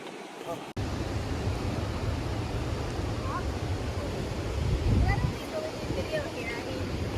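Continuous roar of ocean surf mixed with heavy wind buffeting the microphone, steady and loud throughout.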